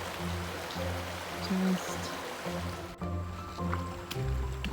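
Rhythmic sloshing and splashing of water as someone wades across a river in the Gila, steps pushing through the current at a steady pace.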